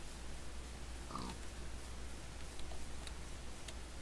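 Pigs in the Minecraft video game give a couple of faint, brief grunts over a steady background hiss and low hum, with a few light ticks.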